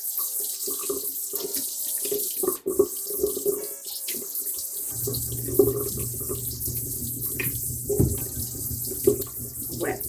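Water runs steadily from a bathroom tap as a continuous hiss, with a low washing-machine hum entering partway through and faint splashes of hands in the stream.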